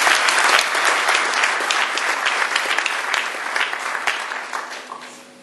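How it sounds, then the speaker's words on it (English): Loud, close applause from attendees at a residential orientation session for an ICU in Zambia, many hands clapping densely before thinning out and trailing off. "Let's give ourselves an applause."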